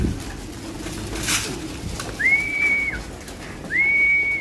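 Two clear whistled bird calls, each a brief rising then level note, sound a second or so apart over a soft steady background hum.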